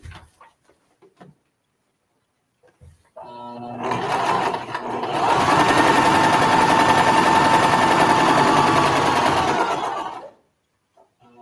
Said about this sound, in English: I'm gonna go and stitch right on that line.